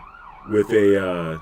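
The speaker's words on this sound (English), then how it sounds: "There's always sirens here." An emergency vehicle siren wails outside, rising in loudness about halfway through and holding a steady, piercing tone to the end.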